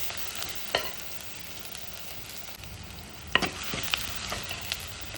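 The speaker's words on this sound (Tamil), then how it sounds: "அது கூட எடுத்து வச்சுருக்க மசாலாவை கொட்டி கொஞ்சம் வதக்கிக்கலாம்" Onion, tomato and masala are sautéed in a pan with a low, even sizzle, broken by a few brief scraping strokes of a spatula.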